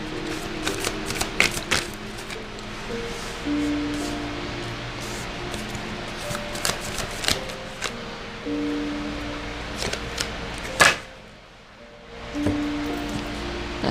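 Tarot cards are shuffled and laid out in a quiet room, with soft riffling and papery flicks, scattered taps as cards are set down, and a short near-silent pause toward the end.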